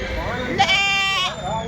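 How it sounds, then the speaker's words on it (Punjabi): Small American goats bleat at a fair in Muktsar, Punjab. One bleat wavers through a drawn-out cry close by while someone talks over the scene. "ਆ ਬੱਕਰੀਆਂ ਦੇਖੋ ਕਿੱਡੀਆਂ ਛੋਟੀਆਂ ਛੋਟੀਆਂ ਨੇ"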